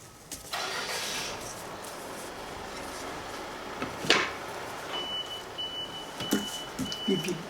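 An oshibori delivery truck runs outside, its engine giving a steady muffled rumble, with a few faint high beeps and knocks later on; no one speaks.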